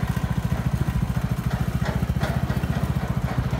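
The 200cc engine of a Trailmaster 200 XRS runs steadily nearby with a fast, even putter of regular pulses and a rough mechanical drone, with no voices over it.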